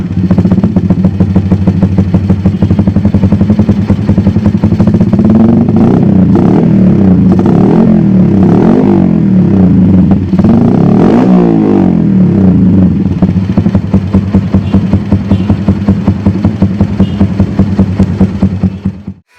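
A Yamaha Jupiter MX 135 bored up to 185cc, fitted with a TZM Project Carbon silencer and R9 Racing header, idles close and loud with a rapid, throaty pulse, revving and settling in swells throughout.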